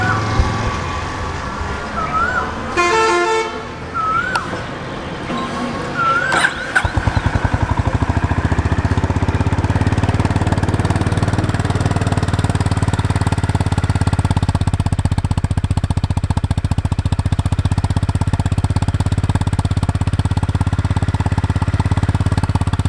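A Honda CB350 RS motorcycle engine idles with a steady, throbbing exhaust rumble after some brief higher whines and clicks at the start, continuing loud and close.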